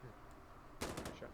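A short, sharp automatic burst of gunfire from the video game Insurgency Sandstorm breaks out after a quiet stretch, several rapid close shots, loud against a low background.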